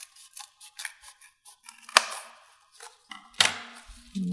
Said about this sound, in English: So you just go ahead and cut a hole in the top.